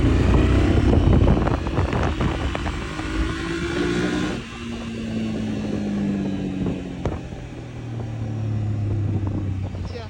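A Honda Transalp motorcycle engine, throttle-restricted for an A2 licence, runs steadily and loudly while riding, its tone rising and falling with throttle changes, with wind rush throughout.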